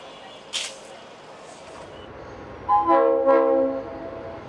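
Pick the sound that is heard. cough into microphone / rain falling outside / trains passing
trains passing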